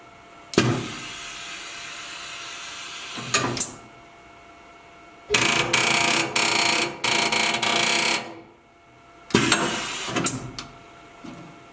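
An MD2 marking machine marks a hose with a few bursts of mechanical buzzing and whirring. A short burst comes first, then a longer stuttering run broken into segments, then a final burst, all close with quiet pauses between.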